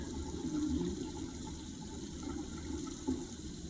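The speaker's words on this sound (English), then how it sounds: "now the water is going in" Steady running water splashes and gushes onto hair nearby, a continuous rushing stream with a brief louder spatter near the end.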